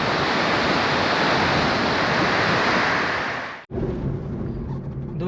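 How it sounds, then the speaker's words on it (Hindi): The Chandrabhaga river rushes violently in a loud, steady roar of turbulent water that fills the scene. It cuts out abruptly for a moment, then returns slightly quieter. "ये जो भाई भयानक तरीके से बह रही है, ये है भागा रिवर, चंद्रभागा रिवर"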